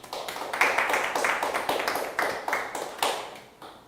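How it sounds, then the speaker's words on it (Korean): A church congregation applauding during a Sunday worship service, irregular pulses of hand claps in uneven bursts, moderately close, fading out at the end. "하나님께 영광의 박수를"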